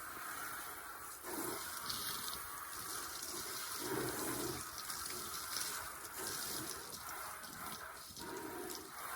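Tap water runs steadily with a soft splashing rush, rising and falling in bursts as a microgreens growing tray is rinsed under the stream, close by.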